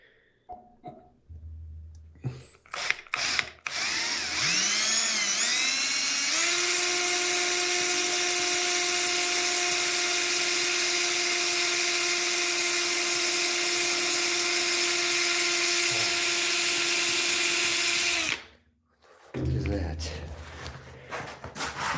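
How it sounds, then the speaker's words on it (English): A drill bites into an object with a high whining tone that rises and then holds steady for many seconds, preceded by clicks and knocks and ending abruptly. "This is where he drills the object"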